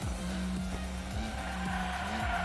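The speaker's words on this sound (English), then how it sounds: "It sounds like a supercar, like when it's changing gears." Hot dog-shaped toy car racing in the video game Hot Wheels Unleashed, its engine note rising and dropping in repeated gear-change sweeps like a supercar, steady and close with tire noise beneath.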